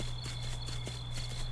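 Horse hooves clip-clop at a steady walking pace in the Far Lands video game, each footfall close and distinct over a constant hum of game ambience.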